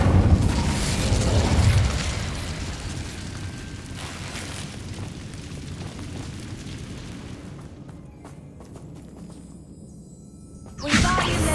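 Incendio fire spell cast in Hogwarts Legacy on PS5, a loud fiery burst and whoosh that fades into crackling and rumbling, then a sharp new magical blast at the end.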